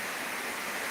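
Steady rain falls during a nighttime sound check, a continuous even hiss with no speech or other events over the short stretch.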